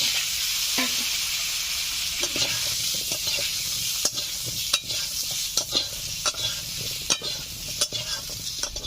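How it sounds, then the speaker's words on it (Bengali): Potatoes fry in hot oil while a cook stirs, a steady close sizzle broken by regular scraping stirs that grow more frequent toward the end. "এই তেলে আলুগুলোকে ভেজে নিচ্ছি"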